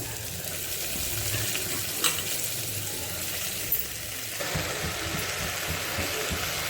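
Steady, continuous sizzling of broad beans frying with onion in a clay pot, with occasional stirring clatter, loud and close throughout.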